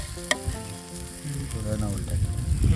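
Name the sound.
fish and masala cooking in a covered pan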